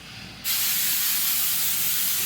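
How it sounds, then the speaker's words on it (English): Tresemme Extra Hold hairspray bursts from the can onto hair in one sudden, loud, steady hiss that starts after a brief moment of quiet and continues close up to the end. "I just give myself a good spray and then a good scrunch."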